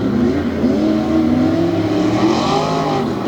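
Chevy and Ford trucks race side by side in a tough truck competition, their engines roaring loud and close with rising, shifting revs throughout.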